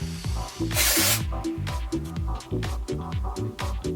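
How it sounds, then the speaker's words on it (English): A broad burst of texturizing hair spray lasting about half a second, loud and close, over a steady rhythmic background beat. "I'm just taking it and spraying it up through the bottom of my hair"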